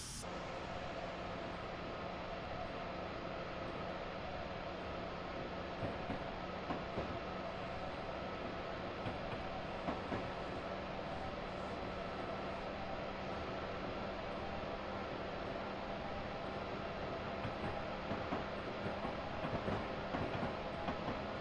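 Amtrak Vermonter passenger train running between New York and New Haven, heard from the cab: a steady, loud rumble of rolling wheels and track noise with faint rhythmic clicks, continuous throughout without talk.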